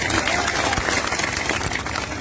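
An outdoor political rally crowd claps in a dense, steady burst of applause, moderately loud and mixed with crowd murmur and voices.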